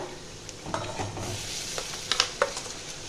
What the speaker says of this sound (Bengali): আমার পেঁয়াজটা ভাজা হয়ে গেছে, আমি এবার দিয়ে দেব বাটা পেঁয়াজটা।